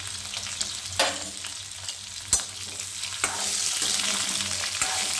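New potatoes sizzle in hot salted oil in a Bengali kitchen, a close, steady frying hiss broken by a few sharp scraping stirs.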